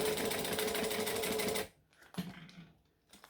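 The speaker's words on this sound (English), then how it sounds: "I go up to a decorative stitch length and I can actually top stitch all the way across here" A sewing machine top stitches across a crossbody bag at a decorative stitch length, running in a fast steady whirring rattle for about a second and a half, then stopping, followed by a few faint clicks and handling sounds.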